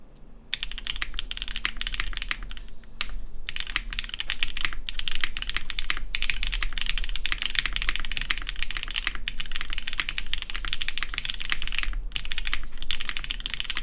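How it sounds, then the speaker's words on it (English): Typing on a keyboard with a carbon fiber plate, Gateron Ink switches and GMK keycaps, producing rapid, continuous close-up clacking keystrokes with a few brief pauses. "And we have carbon fiber, Gateron inks, and GMK SoWaRe."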